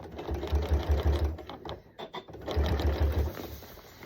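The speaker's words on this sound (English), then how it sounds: "We're trying to sew right on top of the same line where the factory sewed when the coat was made." Sewing machine stitching through a winter coat along the original factory seam over reinforcing fabric, running in two close, steady bursts of rapid needle chatter with a short pause between.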